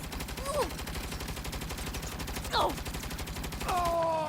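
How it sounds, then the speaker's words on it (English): A heavy machine gun fires in the video game Saints Row, a steady rapid stream of shots running the whole time with a few short tonal game effects over it. "Again, this heavy duty machine gun."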